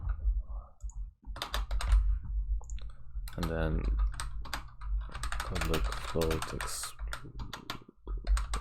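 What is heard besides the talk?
typing on a computer keyboard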